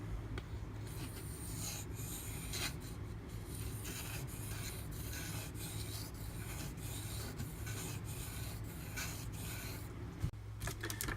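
A Spyderco Native 5 knife with a Maxamet steel blade is sharpened on an 800-grit Venev diamond waterstone, giving a steady close rasping scrape of repeated strokes, with brief lifts between passes and no talking.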